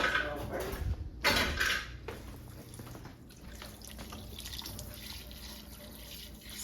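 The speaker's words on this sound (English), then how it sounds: "we're gonna use a colder water to wash it" Cold tap water runs steadily into a sink to wash homemade butter, with a couple of louder splashing bursts near the start before settling into an even, close stream.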